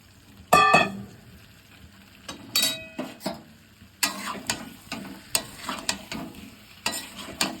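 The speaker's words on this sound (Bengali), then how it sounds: "অনেকক্ষণ ধরেই কষাচ্ছি আমি আলুর দমটা" Potatoes for aloo dum being sautéed and stirred in a pan, with a sizzle under repeated scraping and clanking of a spoon against the metal, some louder knocks spaced through the stretch, and no talk.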